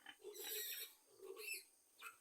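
A pig grunts and squeals softly a few times, faint and somewhat distant.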